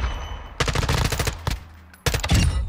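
An M4 rifle is fired in full-auto bursts in Call of Duty MW2 DMZ, with two loud, close strings of rapid shots separated by a short pause.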